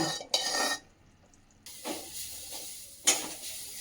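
Grated coconut roasting in ghee in a pan, giving soft sizzling and hissing bursts with brief pauses and a light clink of a utensil, close and moderately quiet.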